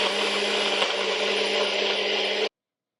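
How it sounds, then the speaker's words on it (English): A small NutriBullet blender whirring a smoothie, a loud, steady high-pitched motor buzz lasting about two and a half seconds before cutting off abruptly into silence. "Then I'm gonna blend it in my little NutriBullet."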